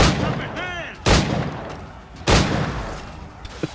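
Gunfire in the video game Assassin's Creed IV: Black Flag, with two loud sharp shots about a second apart over game ambience, a brief whistling tone before them and a few small clicks near the end.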